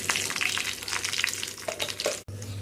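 Chutney poured into hot tempering oil in a pan sizzles and fries loudly and steadily, with light stirring scrapes throughout and a brief dip near the end.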